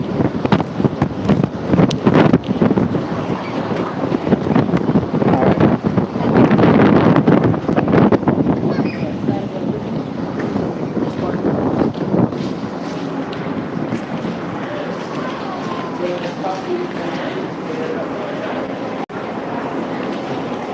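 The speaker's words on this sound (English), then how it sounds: "The wind here." Gusty outdoor wind in St. Croix buffets the microphone with a rumbling, uneven roar, heavier early on and then settling into a steadier low rush, with no talk.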